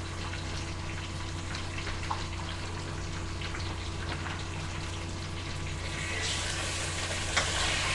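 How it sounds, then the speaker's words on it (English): Meat braising in a pan gives off a steady, even sizzle and hiss with a low hum beneath it, growing slightly louder near the end as the pieces are turned; no voices. "I'm just turning the meat over because, again, you don't want to fry it. You just braise it."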